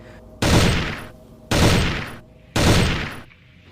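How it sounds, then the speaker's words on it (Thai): Three heavy volleys of gunfire sound effect burst loud and close at regular intervals, each a dense roaring barrage that tails off before the next begins, with no voices. "ต่างประเคนกระสุนใส่ปีศาจกันอย่างบ้าระห่ำ"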